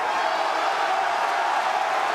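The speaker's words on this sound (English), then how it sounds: "The crowd on their feet." An MMA crowd at an OKTAGON 37 fight, on its feet and cheering, forms a steady, dense roar that holds at an even level with no breaks.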